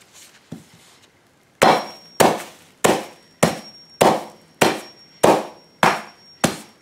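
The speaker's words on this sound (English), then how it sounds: "And then I'm going to just whack them with a hammer." A hammer whacks soft rocks wrapped in a plastic bag, with nine sharp, loud, evenly spaced blows after a faint first tap, each a crisp clanging knock with a quick decay.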